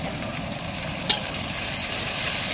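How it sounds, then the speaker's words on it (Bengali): A raw hilsa fish head fries in a spice paste of ginger and garlic, giving a steady low sizzle with one brief clink partway through. "ইলিশ মাছের মাথাটা দিয়ে দেবো, ভাজিনি আমি,"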